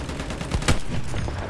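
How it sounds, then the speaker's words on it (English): Heavy gunfire from a gun in the video game Battlefield 1, loud thunderous booming shots blending into a continuous rumble with a sharper crack near the middle. "It sounds like a crack of thunder, this gun, every time you fire it."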